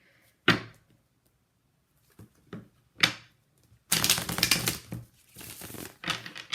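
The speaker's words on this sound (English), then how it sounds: "I don't know what's going on with this shuffling here." A deck of tarot cards is shuffled close by in short riffling, crinkly bursts separated by pauses, followed by a longer, denser stretch of shuffling, with no talking.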